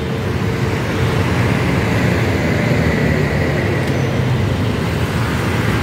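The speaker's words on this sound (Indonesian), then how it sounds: "Kita coba intip ya perlintasannya seperti apa pada saat melintas di Longspan LRT Jabodebek." An LRT Jabodebek train crosses the longspan over Jalan Gatot Subroto, a steady broadband rumble and roar heard from nearby, blended with surrounding road traffic noise throughout.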